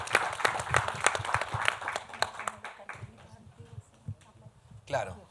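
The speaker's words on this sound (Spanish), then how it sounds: "si les parece, podemos hacer unos aplausos" Audience applause closes a university forum on the constitutional process, with a burst of clapping that thins out and fades after a few seconds, followed by quieter room sounds and a brief noise near the end.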